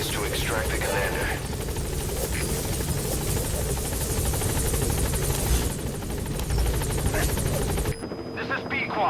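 The Pequod helicopter approaches a landing zone in Metal Gear Solid V, its rotor thudding steadily and loud with a whining engine buzz, while a radio voice speaks over it; the noise cuts away abruptly near the end.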